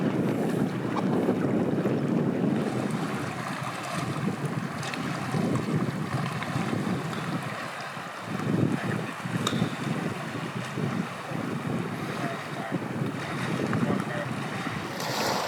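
Wind gusting over an open lake in Vätsäri wilderness, Finland, a steady broadband rush with microphone buffeting and faint lapping water, continuous across the whole stretch with brief lulls.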